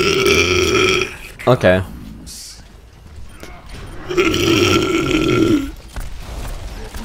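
A person burps loudly and drawn-out during an Overwatch game session, with brief talk before and after and game sounds in the background.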